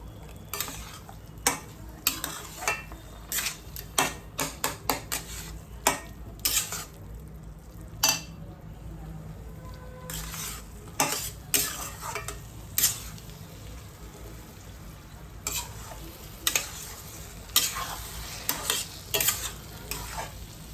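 Semolina being stirred and roasted in a kadai over a low flame for prasad sheera, a steady scraping stir with a faint sizzle and frequent sharp clinks of the spoon against the pan, close and with no talk.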